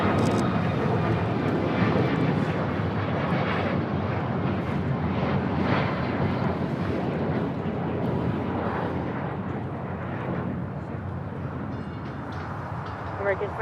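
An airliner taking off from a runway at LAX, a loud sustained jet engine roar that fills the whole stretch and slowly fades toward the end, with radio voices faintly underneath.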